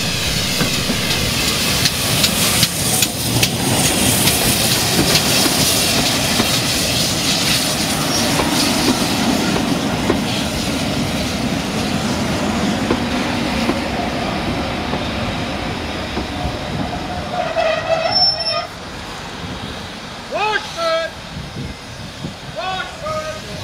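A steam train on the West Somerset Railway drifts into a station at a gala, making a steady rumbling, clanking roll that eases off toward the end, with a few brief sharp squeals and clanks as it comes to a stop.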